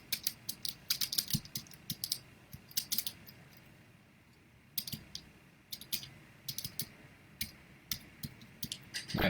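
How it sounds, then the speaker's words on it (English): Quick bursts of keyboard typing, light clicky keystrokes in rapid runs with short pauses between, close and fairly quiet. "you probably hear me clickety-clacking typing"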